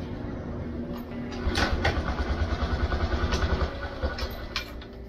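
A Yamaha YTX 125 motorcycle engine starts and runs with a rapid, even idling putter after an oil change, close by, for a few seconds amid background noise.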